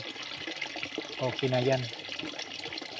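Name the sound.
water filling a container at night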